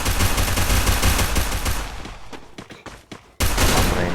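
Gunfire from the video game Free Fire: rapid bursts of automatic shots, loud and dense at first, thinning into scattered single cracks, then a sharp renewed burst at the end.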